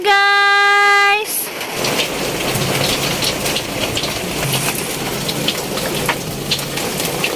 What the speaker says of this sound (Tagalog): nag-ulan din sa amo, guys.